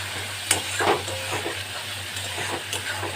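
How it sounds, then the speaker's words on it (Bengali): Spice paste sautéing in a pan for a Bengali bata fish curry with potato and eggplant, a quiet steady sizzle with a few stirring scrapes and clinks, a low hum running underneath. "আগে মশলাটা ভালো করে আমি কষিয়ে নেবো"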